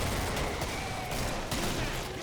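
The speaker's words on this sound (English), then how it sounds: "You've always got to love the sound of a bullpup being spammed." Rapid bursts of bullpup rifle fire in a video game tournament match rattle off in quick clusters of sharp cracks, moderately loud over a busy background of game noise.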